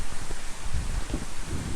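Heavy rain falls during a thunderstorm in Panama's rainy season, a dense steady roar with low rumbling swells, loud and close with no voices.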